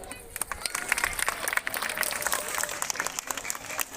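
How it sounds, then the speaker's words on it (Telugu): An audience at a March 8 women's day event claps, a dense patter of many hands at moderate distance, steady for the whole stretch. "మనం గట్టిగా చప్పట్లు కొట్టాలి"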